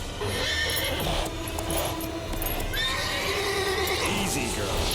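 Roach, a horse in The Witcher video game, gives a loud whinny over steady game ambience, with hoof clip-clop and a speaking voice underneath.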